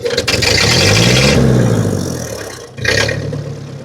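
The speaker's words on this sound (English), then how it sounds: "Let's go from a complete idle to full throttle." An antique Ford 8N tractor engine revs up hard from idle to full throttle, its pitch climbing and holding loud, then easing off before a brief drop and a sharp return.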